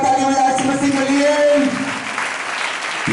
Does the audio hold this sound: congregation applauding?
yes